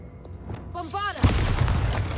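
A Bombarda blasting spell going off in Hogwarts Legacy, a single sharp, loud explosion with a rumbling tail, right after a voice calls out.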